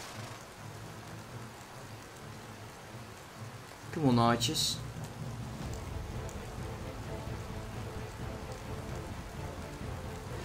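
Rain falling in the video game Mount and Blade Warband, a continuous hiss underneath, with a sudden rising sweep partway through and someone talking over it.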